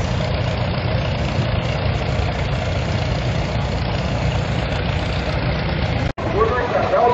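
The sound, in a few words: 1957 John Deere 720 diesel tractor engine running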